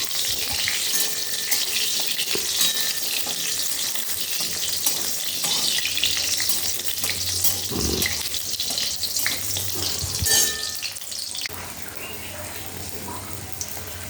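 Lentil dumplings (bori) fry in a small amount of oil in a pan, giving a steady, bright sizzle that runs throughout with occasional stirring scrapes and a brief clatter near the end.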